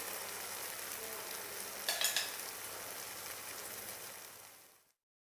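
Banana halwa mixture stirred in a pan, a soft continuous sizzle and bubbling with a brief cluster of scraping clicks midway, fading out toward the end, no voices.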